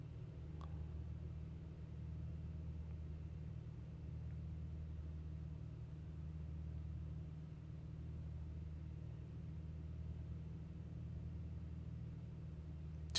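A Beechcraft Bonanza engine in the Prepar3D flight simulator drones at low throttle, a steady, low, even rumble with no change in pitch from start to end.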